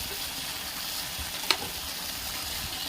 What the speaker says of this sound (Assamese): এইফালে বনাই আছোঁ আলু ভাজি।